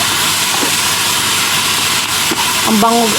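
Ground meat topping for a Filipino eggplant omelette (tortang talong) sautés in a pan with a loud, steady sizzle and hiss. A brief voice breaks in near the end.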